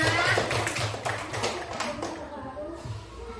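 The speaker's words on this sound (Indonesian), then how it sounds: "Tepuk tangan untuk kalian semua." Children in a classroom clap together in a brisk burst of quick, even handclaps that fade out toward the end, with a little talk mixed in.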